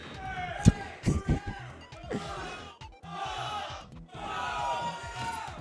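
A tournament crowd at a Smash Ultimate event in Georgia shouts a ragged countdown in uneven bursts of voices and cheers, with a few sharp thumps early on.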